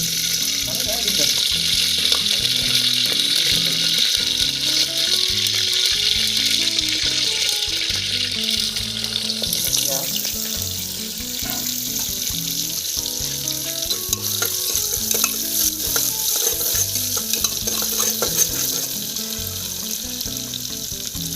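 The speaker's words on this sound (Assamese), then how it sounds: "পিঁয়াজখিনি এনেকৈ সিজাই মেলি গল্ডেন ব্ৰাউন কৰি ল'ব" Onions fry in refined oil for duck pulao, a steady hiss and crackle running throughout, with a voice talking over the cooking at moments.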